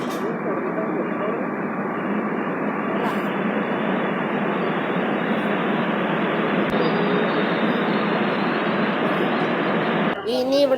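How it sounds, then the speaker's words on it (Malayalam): A Kochi metro train pulls into the station for boarding, producing a loud, steady rumbling hum that holds for about ten seconds before shifting abruptly at the end. "നമുക്ക് കയറാനുള്ള ട്രെയിൻ ഇത് എത്തിയിട്ടുണ്ട് കേട്ടോ."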